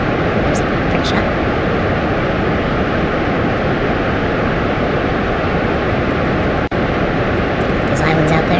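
A spacecraft engine in Kerbal Space Program roars at full throttle, a loud, continuous broadband rumble holding steady throughout.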